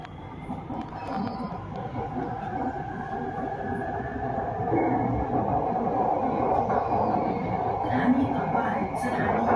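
A metro train rumbles at an MRT station with a steady low roar of wheels and motors, rising slightly as it draws in, with faint squeaks and chimes above the noise.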